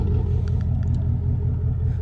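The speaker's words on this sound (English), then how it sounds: "So she does have a mean gurgle on idle" Ford Mustang GT fitted with an MBRP Pro Series active cat-back exhaust idling, a deep steady burbling rumble close by, continuous and loud with no revving.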